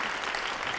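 Short burst of steady audience applause at a tech panel on autonomous networks, moderately loud and continuous, with no voices on top.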